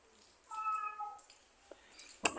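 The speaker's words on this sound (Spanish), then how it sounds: "si escuchan malvidos es el gato es un gato que anda por ahí" A cat meows outside at night, one drawn-out tonal cry with a shorter follow-up, fairly faint and distant, then a sharp click at the end.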